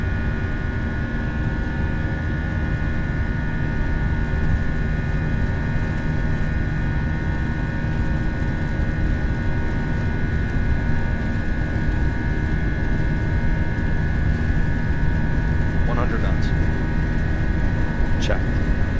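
FSLabs A320 jet engines at takeoff thrust in the Prepar3D flight simulator, a loud, steady broadband roar with a constant high whine running alone throughout.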